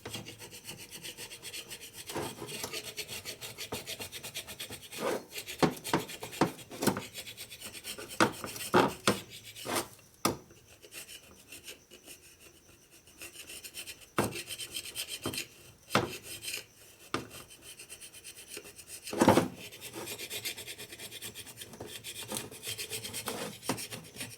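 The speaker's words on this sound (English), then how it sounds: "come back with a scraper, take it down to the aluminum." A hand scraper rasps old gasket material off an aluminum Harley-Davidson S&S 113ci Evolution motor, with repeated scraping strokes and sharp close scratches across a steady gritty rub, no voices.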